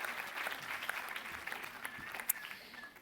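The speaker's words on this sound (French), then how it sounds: "Ah oui, c'est bien une foule en délire." Applause from the audience at a doctoral graduation ceremony, moderate and fairly distant, trailing along with scattered claps and a brief sharp peak near the end.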